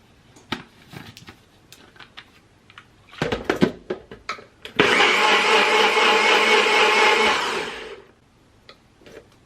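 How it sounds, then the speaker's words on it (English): A NutriBullet blender whirs loudly for about three seconds of steady grinding, preceded by clattering and tapping as it is set up, then cuts off abruptly. "Go on to the NutriBullet, shall we?"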